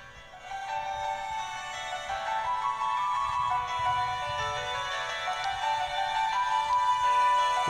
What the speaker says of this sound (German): jetzt kommt das Telefon